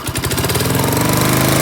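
An old engine revving at high throttle, its rough chugging speeding up into a loud, steady, rising roar, up close and with no voices.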